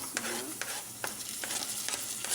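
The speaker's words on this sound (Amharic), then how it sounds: "ከዛም በመቀጠል ነጭ ሽንኩርቱንና የሾርባ መስሪያውን ጨምርበታለሁ።" Garlic and soup mix hit hot oil in a frying pot, giving a soft steady sizzle with a few scraping stirs of a utensil, close and fairly quiet.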